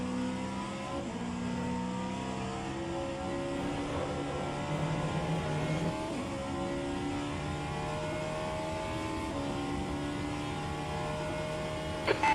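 Race car engines roar in the rFactor 2 racing game at Monza, several overlapping motors holding high revs with shifting pitch as cars run close together, loud and continuous.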